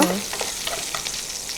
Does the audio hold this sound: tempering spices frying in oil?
yes